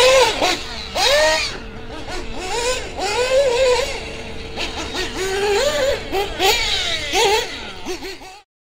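Small nitro RC car engine fitted with a Factory Team adjustable clutch set to increased tension, revving up and down in repeated wavering whines as the clutch engages at higher revs, loud and close.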